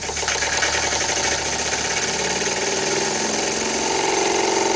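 A Bing Weeden toy steam engine starts up by itself and runs continuously, giving a dense, rapid mechanical chatter that holds loud and close throughout and quickens slightly toward the end.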